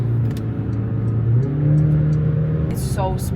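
A Porsche on a test drive accelerates hard, heard from inside the car: the engine note climbs steadily in pitch, loud and close, with road roar underneath.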